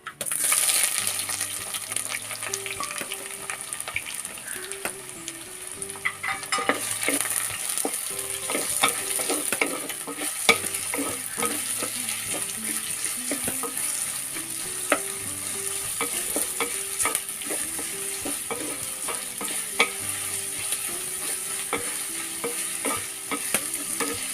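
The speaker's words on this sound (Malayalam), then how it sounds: "അതിലേക്ക് 1 തണ്ട് കറിവേപ്പില, നേരത്തെ എടുത്ത 3 സവോള ചെറുതായിട്ട് അരിഞ്ഞത് അതും കൂടി ചേർത്ത് കൊടുക്കാം." A sprig of curry leaves and three finely chopped onions fry in hot oil in a pan for a Kerala prawn roast, with continuous close sizzling and frequent stirring scrapes and clinks of a spoon, with no talk.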